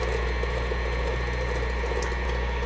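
An electric stand mixer beats gingersnap cookie dough made with molasses, giving a steady, loud motor whir with a low hum that continues evenly throughout, close by and with no talking.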